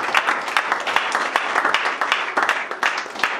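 A church conference congregation applauds in praise, a dense, lively burst of many hands clapping with some rhythmic accents, heard close and filling the room with a few voices mixed in.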